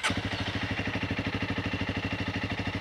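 A Honda CRF300L motorcycle engine idles steadily and close by, with a quick, even mechanical pulse running throughout and no one talking.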